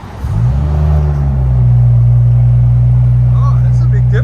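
From inside the cabin of a BMW 740i, the engine note climbs as it revs, then settles into a loud, steady drone that stays close and dominant. No one speaks.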